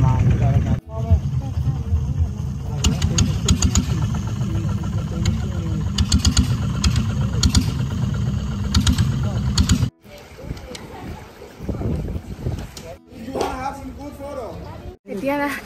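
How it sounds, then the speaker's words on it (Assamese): A speed boat off Koh Samui, Thailand, runs with a loud, steady mid-pitched engine drone that drops and turns rougher and more uneven in its final seconds. "স্পীড বোট এখনেৰে আমাক পাহাৰলৈ লৈ গৈ আছে এতিয়া"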